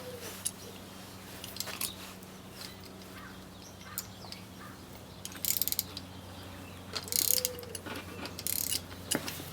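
A ratchet fitted with a 17mm socket clicks in short irregular bursts while working on a BMW rear shock absorber, quiet and close against a steady low hum.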